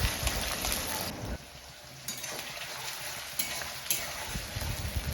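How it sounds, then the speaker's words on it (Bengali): Sliced onions frying in a pan with bay leaves, a soft continuous sizzle with occasional stirring scrapes, close and moderately quiet, no talking. "আর এই পেঁয়াজগুলো আমি একটু ভালো করে ভেজে নেব।"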